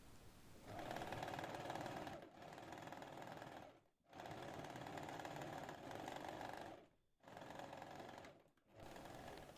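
An electric sewing machine stitches a belt onto the waistband of palazzo trousers, running in steady, fast whirring bursts of several seconds each, broken by short stops. It is close and clear, with no voices.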